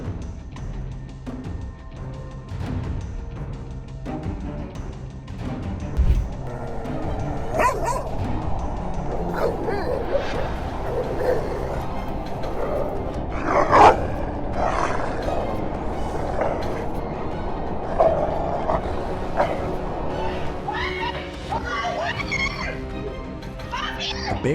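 A small dog barks and yelps in a town in Garhwal as a stalking black leopard snatches it, the sharp cries coming in bursts over background noise from a shop security camera, with other voices also heard.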